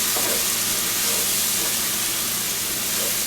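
Garlic frying in a pot over a medium fire, a steady loud broadband sizzle and hiss that holds evenly throughout, close up and alone without talk.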